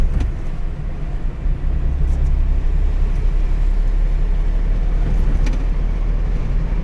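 A manual car drives along a road during a driving lesson, giving a steady, close low rumble of engine and road noise heard from inside the cabin, with no clear speech.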